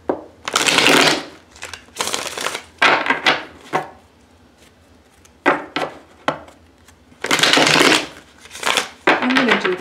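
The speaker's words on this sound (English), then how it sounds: "Let's get a couple more shuffles," Tarot cards are shuffled in repeated loud, close bursts of riffling and slapping, separated by short quiet pauses, with no talking.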